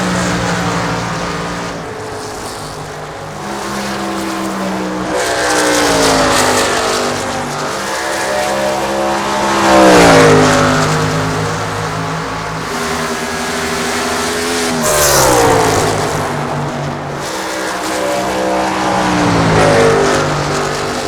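Race car engines on the final lap at Dover in the iRacing Xfinity Series sim, a loud sustained drone that climbs and falls in pitch with each pass and shift, continuous throughout with no voices.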